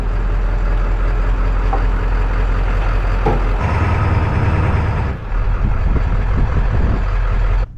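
A 1955 Chevy COE truck being pulled off a trailer and backed into a backyard: a loud, steady low engine drone and mechanical rumble with a few clunks and shifts, close and continuous, with no talking.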